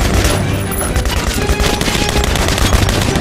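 Sustained rapid minigun fire in the video game Metro: Last Light, a dense, loud, continuous roar of automatic gunfire filling the whole stretch without pause.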